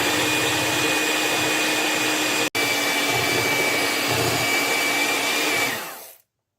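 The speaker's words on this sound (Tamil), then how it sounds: "இதை நல்ல பீக் கன்சிஸ்டன்சி வரும் வரைக்கும் நல்லா பீட் பண்ணி எடுக்க போகிறேன்." An electric hand mixer whips double cream for a pistachio cheesecake, giving a loud, steady motor whir that runs for about six seconds, drops out for an instant midway, then winds down and stops.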